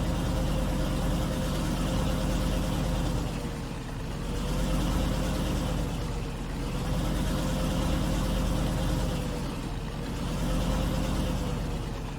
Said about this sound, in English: Don't you love the sound of this old truck?